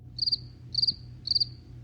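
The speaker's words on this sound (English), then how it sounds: "Crickets." Three evenly spaced bursts of cricket chirping, each a rapid trill of pulses, heard clearly over a low steady background hum with no other sounds.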